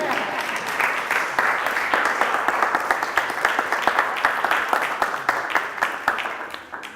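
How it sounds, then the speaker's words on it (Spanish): A theatre audience applauds after a monologue: many hands clap in a broad, steady patter that grows more distinct and loosely rhythmic toward the end, with some voices mixed in. "Pueden aplaudir si quieren."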